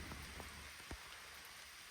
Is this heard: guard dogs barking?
no